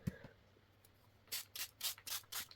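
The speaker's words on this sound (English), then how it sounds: "And then I'm going to spray it very quickly with water" Quick bursts from a water spray bottle misting a wet Brusho watercolour landscape, about five short hissing pumps in a loose rhythm, close and clear after a quiet lead-in.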